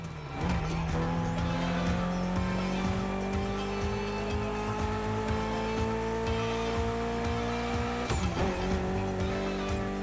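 Mitsubishi car with a 280-horsepower inline four-cylinder engine in the racing game The Crew Motorfest, engine held at steady high revs with a rising whine, a brief shift or break near the end, loud and continuous.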